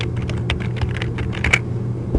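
A name is typed on a computer keyboard in quick, uneven clusters of close, crisp key clicks over a low steady hum.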